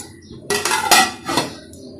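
Metal pot lid lifted off a pot of bottle gourd and mung lentil dal, a few clanking clinks over about a second, close and fairly loud.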